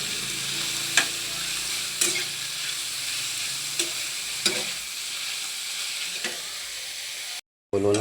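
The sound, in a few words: chicken liver with chili frying and being stirred in pan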